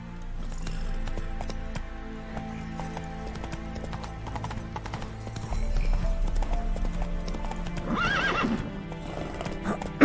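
Roach the horse gallops in The Witcher 3, rhythmic hoof clip-clop running throughout and growing heavier, with a whinny near the end.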